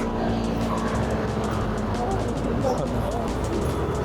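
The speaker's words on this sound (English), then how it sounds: "Way too many scooters." Dense Taipei street traffic rumbles past, with scooter and motor engines droning continuously and close by while someone talks over the noise.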